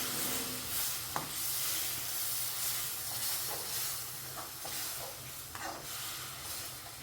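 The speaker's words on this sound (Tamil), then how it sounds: "நாலு தக்காளி அடித்து வச்சுருக்கேன் அதை இதில் போட்டு வதக்கணும்" Four blended tomatoes poured in and sautéed for a prawn thokku gravy: a loud, steady steamy hiss with a few soft clicks and knocks rising from it.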